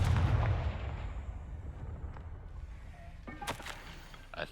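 A Confringo explosion spell in the Hogwarts game bursts with a heavy boom at the start, then decays into a quieter rumbling tail with a few faint crackles and pops afterward.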